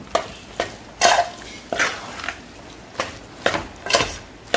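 A spoon scrapes and stirs mango pickle through sesame oil in a pan, giving a series of sharp, close scraping strokes in an uneven rhythm with no talk.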